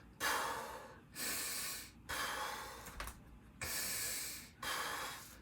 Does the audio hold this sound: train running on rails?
no